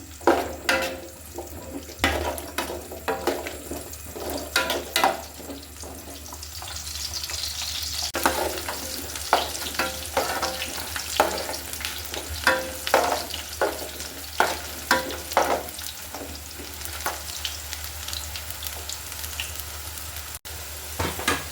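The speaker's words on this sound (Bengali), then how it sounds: "তেলটা বেশি গরম হওয়ার দরকার নেই, আমি কিন্তু এর আগে রসুন দিয়ে দিচ্ছি। রসুনটা হালকা ব্রাউন কালার করে নিব আমি।" Garlic fries in not-too-hot oil for a hog plum pickle until lightly browned: continuous close sizzling with frequent stirring scrapes and clatters for about twenty seconds.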